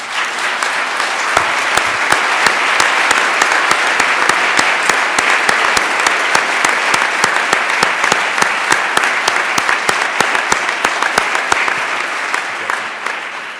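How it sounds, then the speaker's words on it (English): Loud, close audience applause at a legal anniversary event, a sustained round of clapping with distinct individual claps punching through, tapering off at the end. "I'd like him to stand up so we can give him a round of applause"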